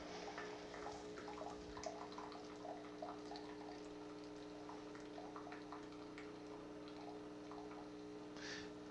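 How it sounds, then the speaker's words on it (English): A Tassimo coffee machine pumps water into a latte milk T-disc, a steady, quiet watery hum with faint gurgles and small clicks running throughout. "the machine's going to go through, read the barcode, and now it's being told how much water it should put into this latte milk T-disc"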